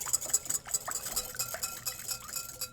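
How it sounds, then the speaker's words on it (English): A whisk clinks quickly against a bowl while a farm-fresh egg is beaten into buttermilk, a fast steady scraping and tapping rhythm, close and moderately loud, with no voices. "We're going to crack 1 egg and add that to it. Nice, beautiful farm fresh egg, and just whisk that together."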